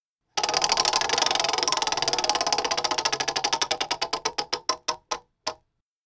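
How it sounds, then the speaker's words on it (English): A game-show prize wheel spins with a dense run of rapid ticks that gradually slow and spread out until the last few clicks land and it stops, loud and close. "Now spin the wheel."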